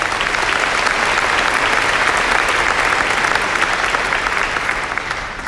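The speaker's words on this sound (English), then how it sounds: "How about a round of applause for Aon?" A large keynote audience at a Las Vegas tech conference applauds a customer team, dense steady clapping filling the hall without a break, fading slightly at the very end.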